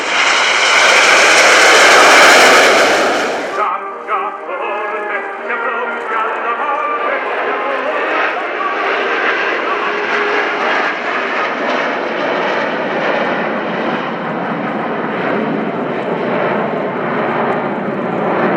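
Frecce Tricolore display jets at the RIAT 2018 airshow at Fairford, opening with a loud close roaring pass that cuts off sharply, then a sustained engine roar further off with a fluttering, rumbling texture.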